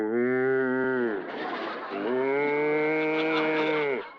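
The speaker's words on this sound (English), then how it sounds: "It's a herd of stampeding cattle." A stampeding cattle herd in a cartoon gives two long, loud, droning moos, one after another with a brief noisy gap between them, heard alone.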